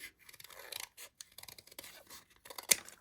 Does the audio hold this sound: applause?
no